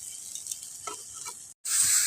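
Fish curry with potatoes and eggplant sizzles steadily in a pan while being sautéed, with soft stirring scrapes, then a brief gap and a louder burst of hissing.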